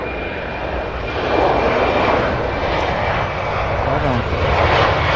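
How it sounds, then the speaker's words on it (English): A three-year-old Delta Airbus A220-100 arriving from Boston at Cincinnati's CVG airport produces a loud, rushing jet roar close by that swells midway. A person speaks briefly over the noise. "This is Delta Flight 2482 coming in from Boston, Massachusetts, a 3-year-old Airbus A220-100."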